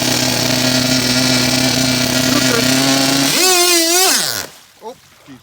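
A Proboat Thunder Cat .32 nitro RC boat engine runs loudly with a steady high-pitched drone, then revs up and down in quick surges before cutting out, leaving a couple of faint sounds.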